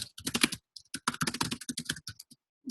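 Quick, uneven bursts of keystrokes on a computer keyboard, close and fairly quiet, with short pauses between clusters of taps and no talking.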